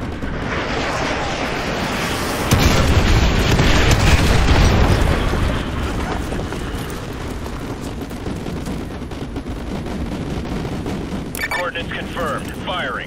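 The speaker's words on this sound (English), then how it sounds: "Fire mission received. Artillery inbound." Artillery explosions thunder in the Call of Duty: Modern Warfare 2 video game, a loud sustained barrage of booms and rumbling blasts that swells, then settles into continuing distant battle noise with radio-style voices over it.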